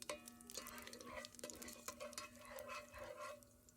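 Whole spices, bay leaf, cloves, mace and caraway sautéing in a pan, a quiet sizzle with repeated scraping and stirring clinks of a utensil against the metal pan, faint and close.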